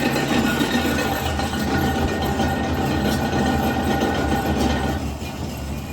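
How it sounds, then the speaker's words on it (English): Empty crusher machine running on a farm, a continuous heavy mechanical rumble with clattering, rattling metal parts, steady and loud with no voices. "This is the sound of the crusher being empty."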